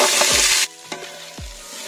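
Capsicum and tomato hit a hot pan for chilli chicken masala, giving a loud burst of hissing sizzle that cuts off, followed by a couple of sharp stirring clanks against the pan.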